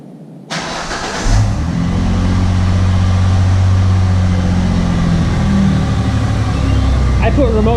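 Ford Mustang engine started by remote start, firing up with a sudden loud crank and catch, then settling into a steady, rumbling idle nearby.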